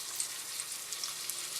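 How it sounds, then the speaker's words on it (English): Beef browning in a hot pot for stew gives a dense, even sizzle of frying meat, steady and close, with faint crackling pops and no voices. "hot enough so that the minute you put the meat in there, it'll sizzle"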